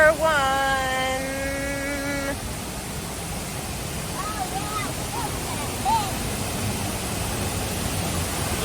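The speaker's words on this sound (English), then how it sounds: "we're going down to our first waterfall" A waterfall on the Four Falls Trail in the Brecon Beacons gives off a constant broadband roar of rushing water, heard alone, with a brief tonal chime near the start.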